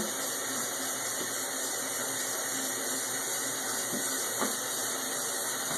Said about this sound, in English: One thing we do want to do is watch to make sure that it fills properly.